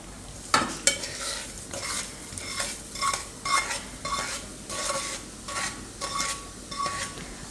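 Semolina is stirred into caramelized sugar in a pan for suji halwa, with repeated close scraping strokes of a spoon against metal and a soft sizzle running underneath.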